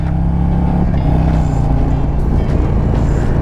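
A Harley-Davidson CVO Road Glide Limited with its 117 engine cruising on the road, a steady, loud low engine drone and rumble running throughout with no break.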